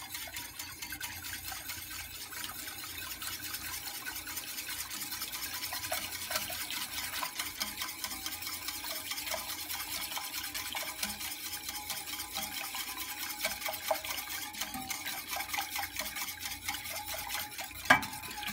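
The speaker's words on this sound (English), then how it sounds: "I'm going to add this in slowly while stirring" A spoon slowly stirs thickener into a pot of turkey broth and drippings: soft, continuous swishing with faint clinks against the pan and a brief sharper knock near the end, all fairly quiet.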